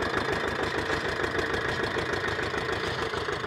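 A single-cylinder tractor engine drives a 7 ft double-shaft rotavator, its steady, loud, rapid thumping chug running continuously up close with no speech.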